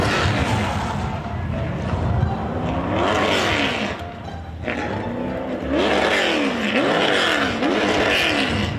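Race car engines at a live main event rev loudly and repeatedly, with rising and falling blips over a constant crowd and track din, dipping briefly before surging again.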